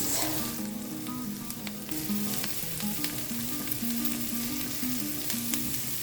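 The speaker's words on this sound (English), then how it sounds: "We put our garlic in, the chopped garlic, and our lemon zest." Chopped garlic and lemon zest sizzle steadily in a hot pan, a dense continuous frying hiss with occasional stirring scrapes, loud and close with background music underneath.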